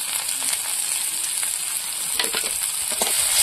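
Chopped onion and garlic frying in a pan with dried chilli, bay leaf and five-spice, a steady close sizzle with light stirring scrapes and no talk.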